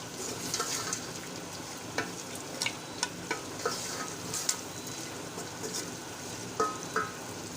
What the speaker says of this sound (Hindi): इसको हल्की आंच पे छोड़ देंगे फ्राई होने के लिए